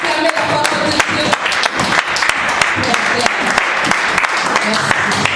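A church congregation bursts into applause during a French-language service, with steady dense clapping filling the whole span and voices mixed in.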